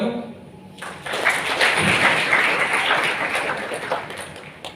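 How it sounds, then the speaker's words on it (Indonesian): An audience at a public speaking event claps and responds in a dense wash of applause lasting several seconds, fairly loud and continuous. "Tepuk tangan dong."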